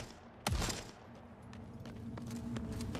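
Single pistol shot in the game The Forever Winter, a sharp loud crack followed by a short tail, then softer scattered distant gunfire and thuds under a low steady game hum.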